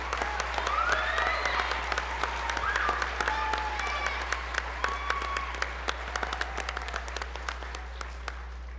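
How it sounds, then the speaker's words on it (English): An audience at a school district board meeting claps warmly for honored students, a dense steady patter that slowly thins out, with a low constant hum running underneath. "Round of applause."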